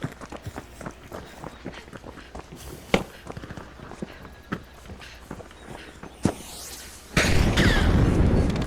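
Gunfire in The Finals team deathmatch, a rapid run of sharp cracks scattered across the clip with a few heavier bangs, followed by a sustained loud burst of noise near the end.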